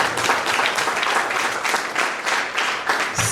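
A church congregation claps for Jesus during worship, a dense, sustained wash of many hands applauding together, fairly loud and steady with slight surges, no voices standing out.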